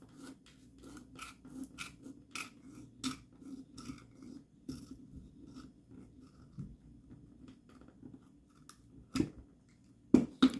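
A goose feather quill cut with a blade against a table for calligraphy, a quiet series of short crisp snips and scraping strokes in uneven rhythm, close up in a quiet room.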